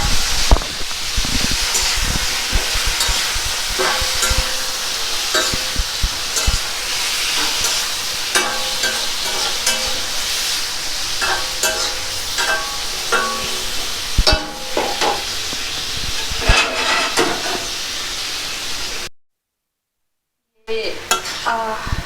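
Tempering spices in hot oil sizzle and crackle steadily in a wok while a utensil stirs and scrapes against the pan, briefly cutting out near the end.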